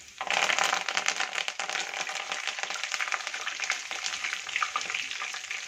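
Curry leaves and cumin hit hot oil with a sudden loud burst of crackling sizzle that settles into dense, steady spattering close by, in a pan of Kathiyawadi onion-potato curry.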